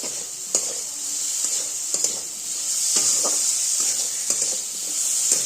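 Pumpkin greens frying in a pan with ginger paste stirred in: a steady, close sizzle with a few soft scrapes and taps of a spoon, and no voices.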